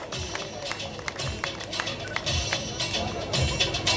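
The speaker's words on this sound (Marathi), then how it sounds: "एकदा जोरदार टाळ्या" An audience claps at a Palus award ceremony, scattered crisp hand claps thickening into steady applause, with a voice over it.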